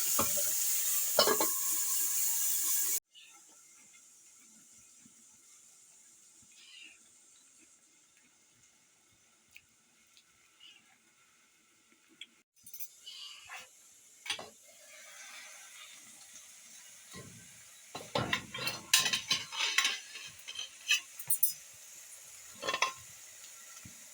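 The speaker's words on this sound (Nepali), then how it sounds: "आलु चाहिँ भुट्टा हालिदिन्छु, मेथीको साग रेडी गरेको छु है" Potatoes with fenugreek greens frying in a pan: a loud sizzle at first, then a quiet stretch before irregular stirring, scraping and clinks build up toward the end.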